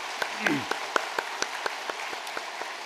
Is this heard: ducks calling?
no